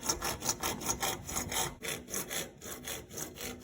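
A pipe is being cut by hand for an outdoor pull-up bar, a close, steady rasp of back-and-forth saw strokes repeating in an even rhythm, roughly two strokes per second.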